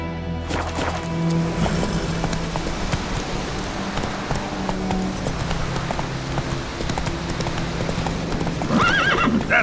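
Roach, the horse in The Witcher 3, gallops with rapid rhythmic hoofbeats close by, a neigh and whinny breaking out near the end over game ambience.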